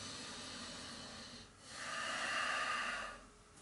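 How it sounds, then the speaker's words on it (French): Forceful bhastrika bellows breathing in a yoga session, heard as a long, steady rush of air, then a stronger surging exhalation, close and breathy with no talk. "Bhastrika, c'est la respiration du soufflet de forge"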